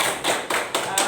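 Audience of vocational school students clapping together in a classroom, a short burst of rhythmic group claps in about four even beats, near and fairly loud.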